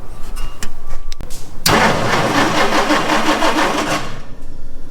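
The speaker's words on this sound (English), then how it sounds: "what we're gonna do is we're just gonna try and turn over the engine" A Jeep J2000 engine cranks over steadily with a fast rhythmic churn, loud and close, after a few brief clicks and knocks at the start, with no one speaking.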